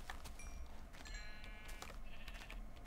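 Minecraft sheep give a few short, thin bleats against a busy game background with light clicking, the calls spaced out and fairly quiet.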